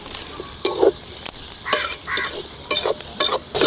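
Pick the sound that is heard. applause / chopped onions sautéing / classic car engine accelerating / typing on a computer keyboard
chopped onions sautéing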